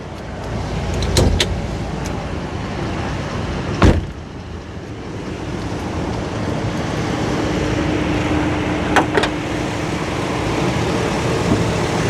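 A 2005 Chevy Silverado LT's 5.3 V8 idles smoothly and quietly with a steady low hum, broken by a few brief sharp clicks and knocks nearby.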